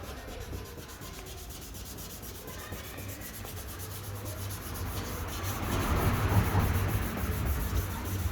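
Dry 320-grit sandpaper rubs steadily against a car headlight in quick back-and-forth strokes, growing louder and rougher toward the end, close up.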